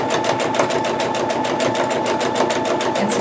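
A sewing machine stitching a fabric face mask runs in a steady, fast rhythmic chatter of needle strokes, loud and close, with no talking.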